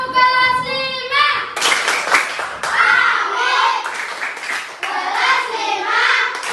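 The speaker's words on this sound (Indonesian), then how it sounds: "Coba dulu. Tepuk kelas 5." Schoolchildren in a fifth-grade class clap out their rhythmic class cheer together, loud group claps in short bursts while their voices chant along in unison.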